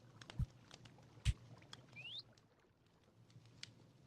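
A bird in Minecraft gives a single quick rising chirp, faint against a soft ambient background, with a couple of dull thumps just before it.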